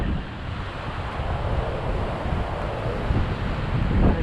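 Big ocean waves heard from a small fishing boat at sea, a loud close rush of surf and water churning mixed with wind buffeting the microphone, continuous and rough with no speech.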